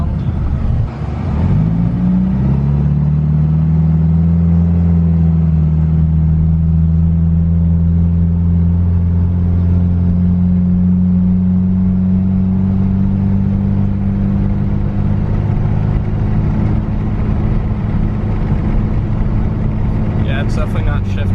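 A rebuilt 1991 Mitsubishi Eclipse GSX engine drones steadily and loud while driving, its low hum holding an even pitch with a brief rise near the start, running continuously throughout.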